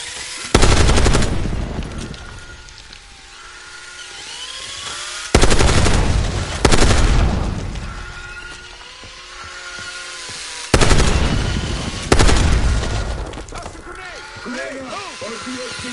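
Machine gun fire in the Black Ops 6 campaign comes in three loud, close bursts of rapid automatic shots, each fading into a rumbling tail, with voices talking between them.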